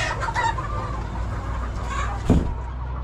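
Chickens cluck in the shed of a poultry farm, with several birds giving overlapping clucks and calls close by and a brief louder squawk near the end.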